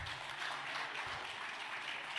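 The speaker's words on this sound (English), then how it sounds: "If you want to clap for me, you can clap for me." An audience at a formal launch event for a national sodium reduction guideline claps steadily, the applause soft and somewhat distant, with no talk over it.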